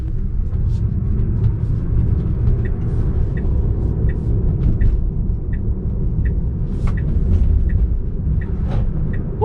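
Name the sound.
Tesla-swapped Porsche 911 electric car accelerating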